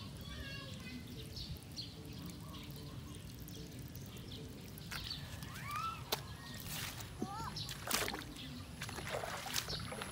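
Strong water flow gushing from a drilled well pipe, a steady broadband rush running throughout under intermittent nearby talk and occasional faint bird chirps.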